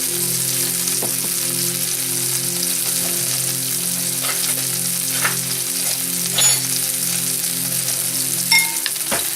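Food sizzles steadily in a frying pan after a seasoning of salt and pepper, a continuous close hiss with occasional light stirring scrapes and no voices.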